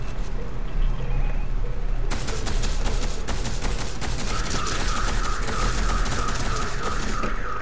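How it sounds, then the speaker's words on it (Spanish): Rapid bursts of gunfire in Fortnite crack repeatedly over a constant droning background, dense volleys of shots continuing steadily throughout. "Hay disparos por acá atrás, Luis."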